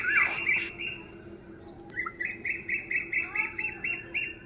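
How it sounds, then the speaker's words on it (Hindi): An Asian koel calls from trees in a Tharu village in Uttarakhand, giving a run of repeated, rising squawky notes at a moderate distance, with no talking. "ये कोयल की आवाज़ कितनी प्यारी सी आ रही है"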